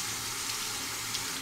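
Hot tap water runs steadily over a shaving brush in a sink, a continuous close-up splash and hiss with no pauses and no voices.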